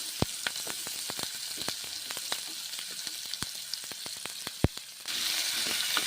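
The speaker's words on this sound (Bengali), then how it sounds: "টমেটোগুলো দিলাম ভেজে নিচ্ছি ভেজে নিচ্ছি নেড়ে চেড়ে" Tomatoes fry in a pan with a steady crackling sizzle, broken by frequent sharp ticks and pops as they are stirred, and the hiss swells louder near the end.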